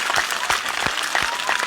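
A crowd gathered for a food-distribution service event claps together in a short, lively burst of applause, many hands overlapping with distinct sharp slaps.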